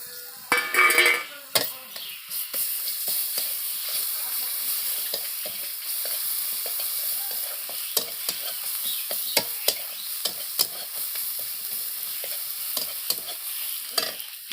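Garlic paste and spices frying in oil, a bright sizzle under frequent stirring scrapes and light utensil clatter against the pan, with a loud burst of spitting at the start.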